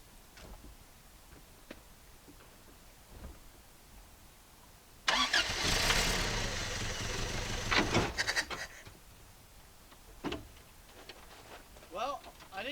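An engine cranks and catches with the clutch being let out, a loud burst of starting noise that settles into a few seconds of running engine before dropping off, with people talking before and after.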